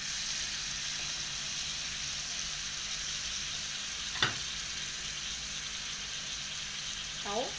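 Shish tawook chicken pieces sizzle steadily in a frying pan, a continuous close hiss with a brief clatter partway through and another light knock near the end.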